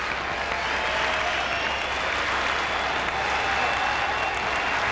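A baseball stadium crowd on its feet cheers and applauds, a dense, steady wash of clapping and roaring from many people that holds at an even level throughout, with no clear voices.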